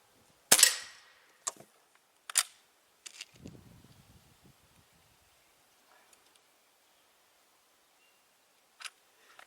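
A Beeman QB78 .22 air rifle fires Crosman hollow point pellets outdoors in light wind, giving a few sharp, isolated cracks spaced seconds apart, the first loudest, with faint rustling handling noise between shots.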